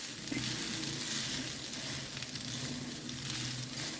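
Food frying in a pan at home during breakfast cooking: a steady, close hiss and sizzle throughout, with faint stirring scrapes and no talk.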